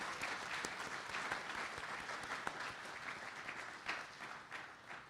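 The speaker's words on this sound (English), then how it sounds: "Let's give one final round of applause for all of this year's winners of really excellent work." An audience applauds contest winners at a Minoru Yasui Day event, with steady, sustained clapping from a sizeable crowd that holds fairly even throughout before easing slightly toward the end.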